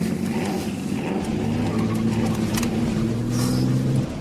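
A car engine pulls away and accelerates in pursuit, a steady rising engine tone with rumbling road noise, moderately loud and close, with no talking.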